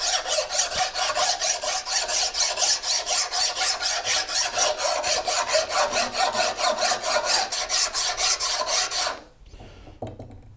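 A badly worn draw knife blade is filed down to reach a fresh edge, giving a steady, loud rhythmic rasp of file strokes on metal for about nine seconds before stopping abruptly.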